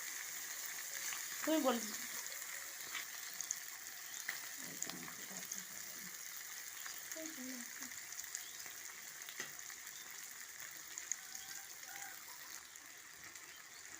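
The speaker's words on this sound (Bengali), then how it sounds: "মাছগুলো এদিকে ভাজা হতে হতে" Fish sizzling steadily in a hot pan while being stirred, a continuous frying hiss with occasional scraping stirs, with brief speech in the clip.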